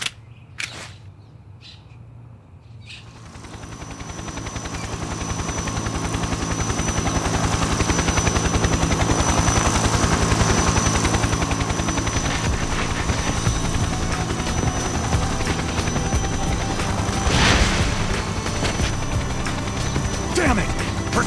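A helicopter flies off in the Trauma Team video game, a loud, sustained rotor roar that builds after a quiet opening and holds steady with game sound effects layered over it.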